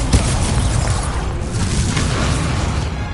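An Incendio fire spell cast in Hogwarts Legacy, a loud, continuous roaring burst of flame and rumble filling the whole moment without letting up.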